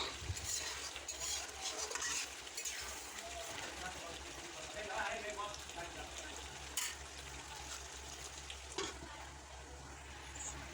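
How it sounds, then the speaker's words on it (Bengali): Chicken curry with meat masala and broken green chilies is stirred in a pan, a soft, quiet sizzle broken by scraping and tapping of a spoon, with a person talking at times. "দিয়ে আবার নেড়েচেড়ে লাল লাল করে নিতে হবে"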